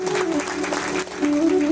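Audience clapping in welcome at a Bhagavat Katha religious discourse, a dense burst of applause from a crowd with a brief dip midway, close and loud.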